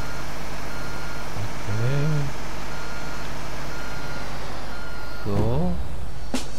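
Construction vehicle in Bau Simulator 2, the game with crane operation, backing up with an evenly spaced electronic reversing beep over a steady engine drone, while someone speaks briefly.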